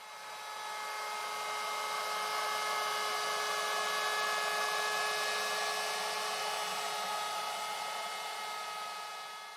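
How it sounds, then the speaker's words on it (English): A wood router routes the inner edge of a 2x4 lumber piece clamped for stability, giving a steady, loud high-pitched motor whine with a cutting hiss that holds evenly throughout. "Okay, now I've finished routing the inner edge"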